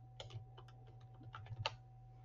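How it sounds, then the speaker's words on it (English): Several quick bursts of keystrokes on a computer keyboard while a word is typed into a design program, close and fairly quiet over a steady hum, with no talking. "we're going to type in apple."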